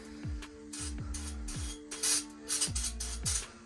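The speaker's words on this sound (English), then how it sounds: "Now let's go ahead and hit up a brake clean." Several short bursts of flammable brake clean aerosol sprayed into an engine, uneven hissing squirts close by over a low, steady idle-like hum.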